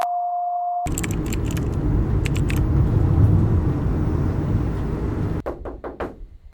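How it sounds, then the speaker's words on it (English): A loud, rumbling van engine drones steadily for several seconds, with a few clicks and knocks, then cuts out and rattles briefly. "My car is loud as f."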